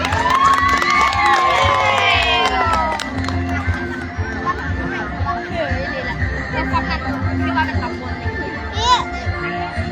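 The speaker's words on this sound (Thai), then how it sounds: "ขอเสียงปรบมือต้อนรับนักกีฬาทั้งสองทีมครับ" At a local sub-district sports competition in Nong Kha, a crowd cheers and shouts to welcome the two teams, with high children's voices and general hubbub loud at first, then settling into ongoing chatter.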